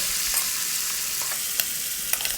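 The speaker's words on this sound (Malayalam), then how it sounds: "അതൊന്ന് പൊരിച്ചെടുക്കുക." Beef pieces frying in a pan for a Kerala-style beef manthi, a steady soft sizzle with occasional light pops and stirring clicks, close and continuous with no voices.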